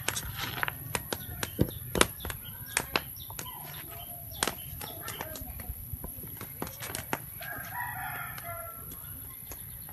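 A rooster crows once in the background on a cold morning, among scattered sharp clicks and footsteps, with people talking nearby.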